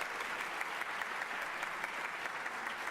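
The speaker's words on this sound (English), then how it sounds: "is this applause for her or for me?" Audience applause in a speech hall after a congresswoman is introduced, steady dense clapping throughout, moderately loud with no talk over it.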